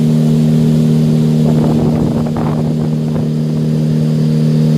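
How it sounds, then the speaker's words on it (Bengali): A speedboat turns on Umium Lake in Meghalaya, its engine a loud, steady, close drone with a strong hum and a rush of water and wind that swells briefly mid-turn. "এবার বোটটা ঘুরছে এবার আমরা আস্তে আস্তে পাড়ের দিকে যাচ্ছি"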